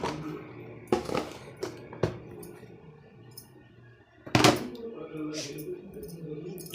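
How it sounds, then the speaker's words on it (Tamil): Sharp pounding thuds of a pestle striking spices in a mortar, a few irregular blows with quiet gaps and low background sound between them. "நல்லா அதை இடிச்சுக்குவோம்"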